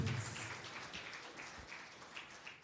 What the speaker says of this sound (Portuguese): Aplauda o Senhor bem forte, queridos.